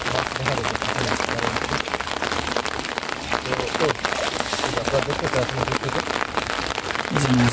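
Steady rain pours over a village canal in Bangladesh, a dense continuous hiss close by with patter on the surface, alongside a low intermittent hum and brief voices in the background.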